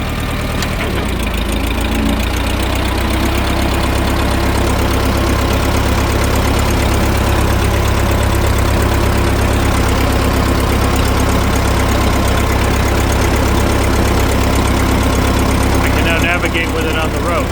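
Case 420 backhoe diesel engine running steadily while driving on a road, a loud, constant low drone with knocking texture close by, and someone speaking over it.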